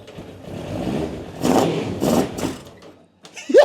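An old tracked machine's engine, flooded beforehand, cranks and catches, then revs in several rising surges before dropping away to near silence, with a brief clatter at the end.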